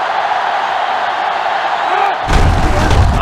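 A stadium crowd roars in the NCAA Football 07 video game during an Arkansas road game. A steady, loud wash of crowd noise surges into a heavier, booming swell near the end, with commentary talk mixed in.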